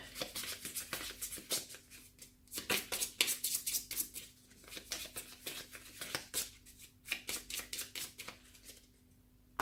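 A deck of game cards for Shadowrun Crossfire is shuffled by hand, with a series of quick riffling bursts in close succession and brief pauses between them.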